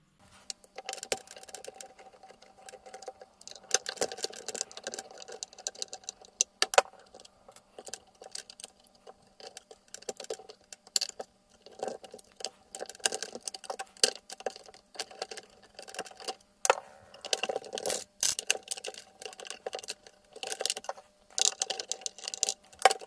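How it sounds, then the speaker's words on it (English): A screwdriver undoes four Phillips head screws on a Thrustmaster T300 steering wheel motor, making quiet, close, irregular clicks, ratcheting ticks and small metallic taps. "to take off the motor, you need to undo these 4 Phillips head screws"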